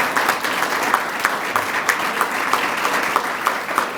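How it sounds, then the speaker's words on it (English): Steady applause from an audience at a village State of the Village event in 2021, a dense clapping that holds evenly for several seconds with no voices over it. "Give them a round of applause."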